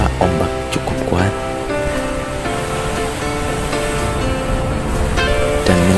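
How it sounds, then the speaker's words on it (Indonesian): Waves break heavily against the rock cliffs at Devil's Tears on Nusa Lembongan, Bali, a constant loud surf roar with a tonal hum running through it, under a voice speaking at the start and end. "Kita akan menjumpai batu karang yang diterpa ombak cukup kuat"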